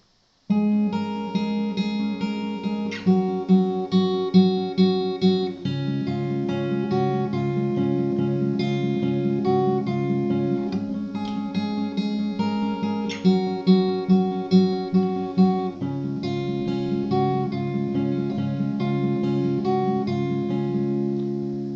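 Strummed guitar chords of a song's pre-chorus ring out steadily in a repeating pattern, with rhythmic accented strums and no voices, played close and clear.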